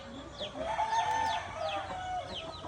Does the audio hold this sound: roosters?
yes